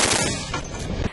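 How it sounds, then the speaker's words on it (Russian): A Utes heavy machine gun fires from the turret of a T-72 tank, a loud, rapid, dense burst of shots heard close up and without talk. "Также он оснащен пулеметом «Утес»."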